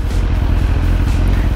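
BMW S1000R street motorcycle engine idling close by, a steady throbbing low rumble with fast regular pulses and no clear revving.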